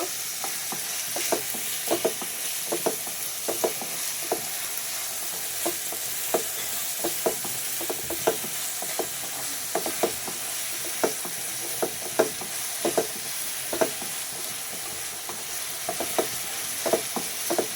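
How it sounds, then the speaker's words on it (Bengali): Dried fish (shutki) frying in a pan, a steady close sizzle with frequent scraping stirs and small crackles throughout, no voices. "এখন এগুলা লাল লাল হওয়া পর্যন্ত আমি এটাকে সুন্দর করে ভেজে নিব।"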